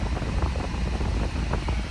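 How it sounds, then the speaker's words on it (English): Ice-cold air blows steadily from a car's air conditioning vents after a home regas, a constant close whooshing rush with low rumble and no speech. "honestly, ice cold aircon blowing at me,"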